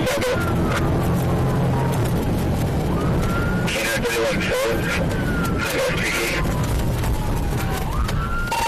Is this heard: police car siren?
yes